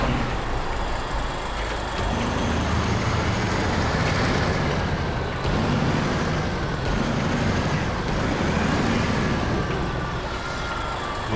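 Pacific P16 truck engine in the game SnowRunner, a steady loud diesel rumble running continuously throughout with no talk over it.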